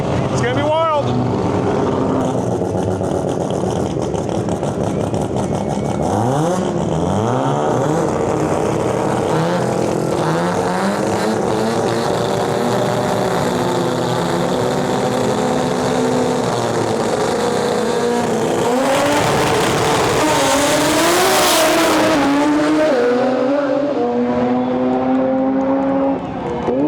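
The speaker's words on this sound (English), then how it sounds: "Got a little Mazda RX-7 in our lane going up against a Subaru BRZ." A Mazda RX-7 and a Subaru BRZ drag race at a World Cup Finals eliminations event, engines roaring and revving through rising gear sweeps, loud and close, with a brief rushing pass near the end and a crowd or announcer audible underneath.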